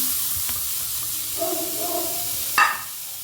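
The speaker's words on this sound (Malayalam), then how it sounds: "ലോ ഫ്ലെയിമിൽ വെച്ചിട്ട് വേണം വറുത്തെടുക്കാൻ" Grated coconut sizzles softly in a pan over a low flame, a faint, steady hiss broken by a light scrape or clink near the end.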